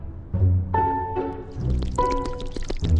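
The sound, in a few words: milk being poured in, from a video game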